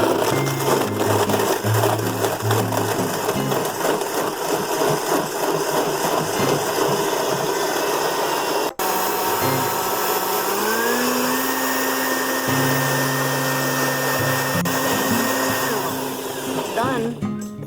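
A blender whirs loudly, making a durian fruit smoothie, with a steady motor drone that briefly cuts out midway, restarts and shifts pitch as the blend smooths, running alone without talk.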